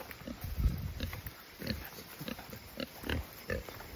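Piglets grunt and snort in short, scattered bursts, fairly quiet and close, with brief pauses between the low grunts.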